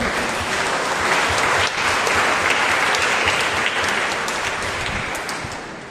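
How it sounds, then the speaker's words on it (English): A congregation at a Monday prayer meeting for Blessed Sacrament adoration claps loudly and continuously, a dense sustained wash of hands that dips briefly and then fades gently toward the end. "Let's give mighty clap to the Lord."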